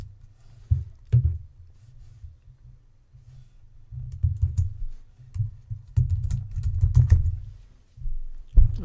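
Someone types on a computer keyboard while working in a spreadsheet app, with scattered soft clicks early on and then denser bursts of keystrokes close by.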